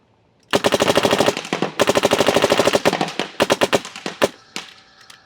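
A paintball marker fires rapidly in semi-auto as the trigger is walked, loud close pops in fast bursts with brief pauses, then a string of slower separate shots.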